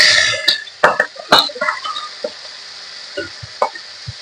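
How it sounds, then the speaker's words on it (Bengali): Sugar dropped into hot oil in a pan while cooking a ridge gourd curry with prawns, giving a series of short crackling pops and spits over a faint steady sizzle, fairly close. "এই যে তেলটা গরম হয়ে গেছে, চিনিটাও দিয়ে দিচ্ছি।"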